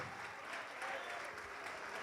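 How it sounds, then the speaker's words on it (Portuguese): A church congregation applauds in worship, a soft, continuous wash of clapping heard from a distance, with no break for two seconds. "Vamos aplaudir mais ao Senhor Jesus por cada vida que está chegando"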